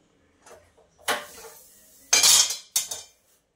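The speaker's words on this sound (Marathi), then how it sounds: "नंतर झाकण ठेवते" A metal lid set onto a pot of cooked vegetables in a home kitchen: a few soft handling knocks, then two loud, close clanks of metal on metal, the second followed by a brief ringing rattle.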